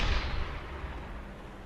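A U-boat deck gun in the game Uboat fires at a convoy ship: one booming shot with a deep thud that decays into a rumbling tail.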